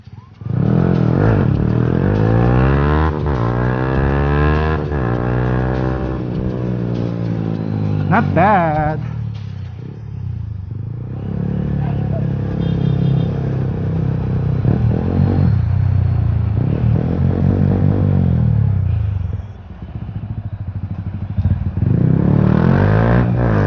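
A modified 2019 Yamaha MT15 155cc motorcycle revs loudly while being ridden, its pitch climbing and dropping through repeated throttle pulls, close and continuous, with a rider's voice mixed in.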